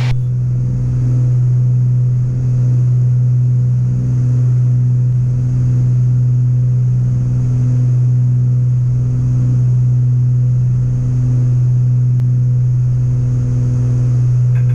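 Twin propeller engines of a Beechcraft Baron droning steadily in flight after the props are pulled back to 2,500 RPM, a loud constant hum held without a break.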